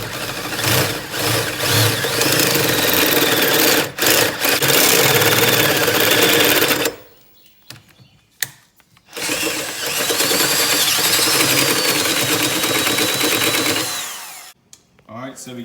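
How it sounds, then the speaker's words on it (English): A power drill bores a hole in a custom exhaust header for a 21hp opposed-twin racing mower, whining loudly in two long bursts with a short pause between them. "I'm drilling a hole for like an oxygen sensor or something"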